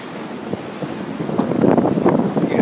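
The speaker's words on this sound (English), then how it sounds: "see the waves rolling by." Waves roll past a sailboat at night, a broad steady wash that swells gradually louder, with wind buffeting the microphone throughout and no talking.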